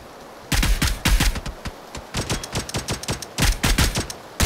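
Automatic fire from an AUG rifle in PUBG, made up of several rapid bursts of loud, sharp shots with brief pauses between the bursts.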